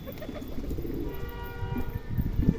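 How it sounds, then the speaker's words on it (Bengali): Pet pigeons feeding, with soft low cooing and gentle pecking and shuffling close by, a steady murmur of birds throughout and no speech. "আমার প্রিয় পায়রাগুলো, এদের টাইম দিতে পারি না, এই একটা টাইমই ছেড়ে খেতে দিই।"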